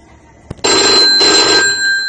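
A telephone rings while someone calls an aunt, with a short click followed by two loud electronic ring bursts separated by a brief gap, close and clear, then fading.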